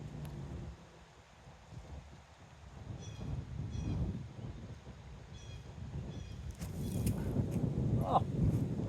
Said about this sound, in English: Wind's going crazy, right when I'm ready to putt.